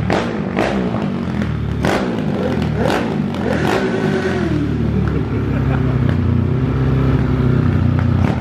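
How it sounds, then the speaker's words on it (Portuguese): A tuned 150cc motorcycle engine revs up and down repeatedly at close range, with a loud, rising and falling growl. Voices can be heard over it. "Motorzinho de 150."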